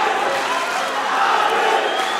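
A dense roaring crowd at an MMA main event, a sustained loud wall of cheering and shouting from a packed arena around the cage, steady throughout with no clear single voice.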